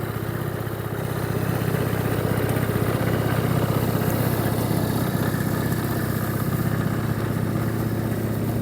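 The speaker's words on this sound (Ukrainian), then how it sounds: "правильна робота двигуна, як для 20-річного скутера" A 20-year-old Honda Dio AF34 scooter engine idles steadily and close up, a loud, even two-stroke putter with no rattling, holding the same rhythm throughout.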